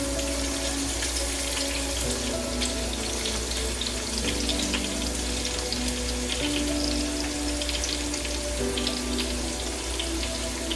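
Bacon grease being drained from a frying pan into a sink, a steady close trickle and splash of liquid running continuously with faint sizzling and kitchen hum, no voices.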